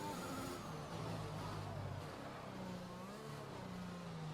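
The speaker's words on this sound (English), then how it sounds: "As I spin the car here" A race car on slick tires spins on a wet track in a racing game, its engine droning steadily and shifting pitch as it slides, loud and continuous with no pauses.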